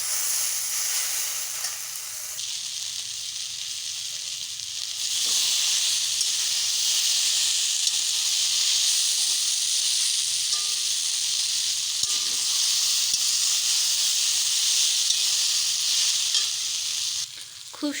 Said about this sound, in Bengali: ভালো করে কষিয়ে নিচ্ছি আমি বৈতালটাকে।